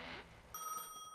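A telephone rings in a gas station management video game, a sharp electronic ring with clear tones starting midway after a burst of background noise, fairly faint.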